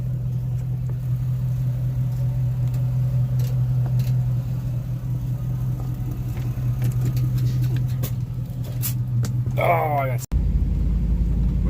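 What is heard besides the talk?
truck engine starting and running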